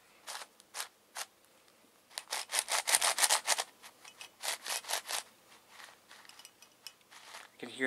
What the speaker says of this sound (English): Hear a spring noise.